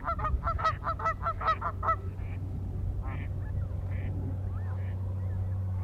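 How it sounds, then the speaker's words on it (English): Canada geese honking in a quick burst of about eight loud calls, then a few fainter, sparser honks farther off over a low steady engine-like drone, in open country in southern Alberta. "among them I found this avocet and these always noisy Canada geese"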